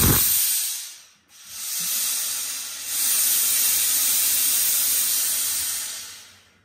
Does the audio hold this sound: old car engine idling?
no